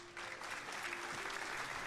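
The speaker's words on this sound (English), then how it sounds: "The audience bursts into wild applause as Waltz steps into place beside me." Steady crowd applause with clapping and a few cheers in the video game Cinderella Phenomenon: Evermore, continuous and fairly loud throughout.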